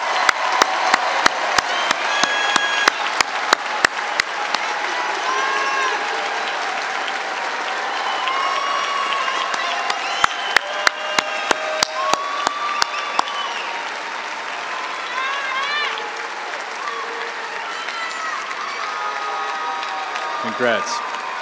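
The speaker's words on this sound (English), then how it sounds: "please join me in a final round of applause to congratulate our outstanding graduating class" At a university graduation ceremony for a business class in a large arena, the audience applauds in a sustained wash of clapping. Sharp individual claps stand out in bursts, and crowd murmur and a few cheers run underneath.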